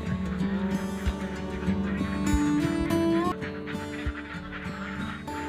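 Laying ducks kept in a pen on a small egg duck farm, a dense chorus of nasal quacking and honking calls close by over steady background noise.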